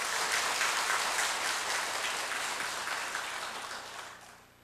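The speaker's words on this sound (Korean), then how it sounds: "박수 한번 쳐주세요." A church congregation applauding during a Sunday evening service, a dense, even wash of many hands clapping that gradually fades out over a few seconds.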